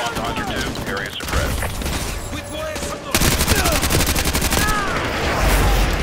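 Rapid automatic gunfire in Call of Duty Modern Warfare 2 Remastered, loud and sustained, with a quieter stretch and then an intense continuous volley in the second half, overlaid with chatter and game sounds.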